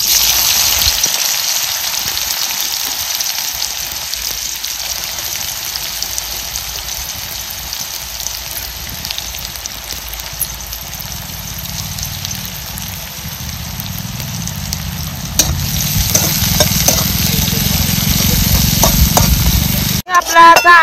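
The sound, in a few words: onion frying and being stirred in hot oil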